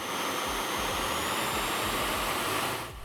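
A KEOS KS-350 diamond drilling rig motor runs with a steady, loud, close whine and rushing hum that holds evenly before dropping off at the very end.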